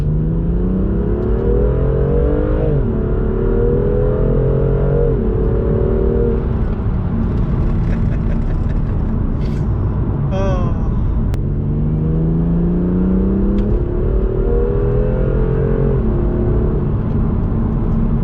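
A turbocharged BMW M2 revs on a damp road with a raspy exhaust, its loud engine note rising and falling through repeated acceleration pulls under constant road and wind roar.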